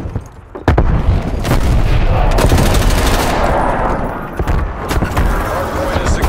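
A frag grenade explosion mixed with gunfire in Call of Duty Black Ops Cold War multiplayer: a heavy boom followed by rapid loud shots and sharp cracks, with radio-style voice callouts layered over the fighting.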